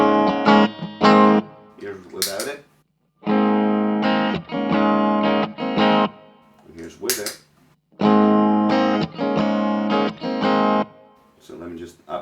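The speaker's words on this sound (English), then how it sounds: "So you get some really weird flange type tones" Electric guitar through a Walrus Audio Julia chorus pedal, giving warbling, flange-like swirling tones; strummed chords in bursts separated by short pauses and string scrapes, played alone.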